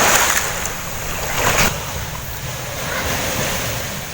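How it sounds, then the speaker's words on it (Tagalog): Sea waves washing onto the shore, a broad hiss of surf that swells and recedes, with gusts of wind buffeting the microphone and no speech. "na nakakawala ng stress yung dagat"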